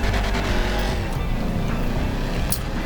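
A video-game car drifts uphill on a mountain road, its engine roaring loudly and steadily with gritty tire noise and a brief high squeal near the end.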